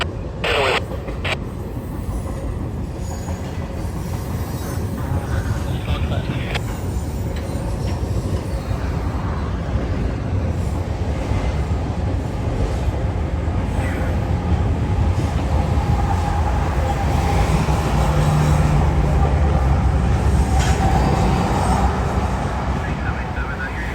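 A CN freight train rumbles past at close range for the whole stretch, with steady rolling wheel noise, rattling cars and brief metallic squeals.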